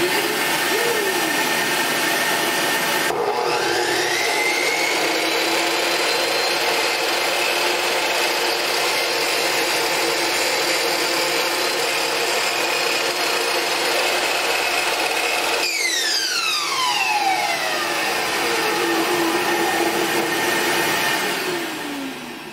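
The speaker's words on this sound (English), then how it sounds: "Vacuum cleaner." A vacuum cleaner runs in a guitar repair workshop, starting with a sharp rise after a few seconds and droning steadily and loudly before its pitch sweeps and shifts near the end, with no talking.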